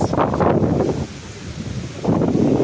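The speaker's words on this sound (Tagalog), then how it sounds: "Ang lakas ng hangin." Strong wind buffeting the microphone in heavy rumbling gusts that ease briefly in the middle, then pick back up.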